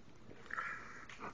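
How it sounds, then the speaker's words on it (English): A dog sniffs nearby in a brief burst of snuffling breaths, close and fairly quiet, with no talking. "This silly old dog."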